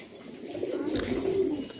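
Giribaz and Bombay fancy pigeons coo in low, rolling throaty calls, a close and fairly loud stretch of overlapping cooing with no one speaking.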